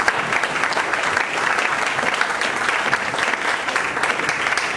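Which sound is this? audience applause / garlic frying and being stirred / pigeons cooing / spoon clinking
audience applause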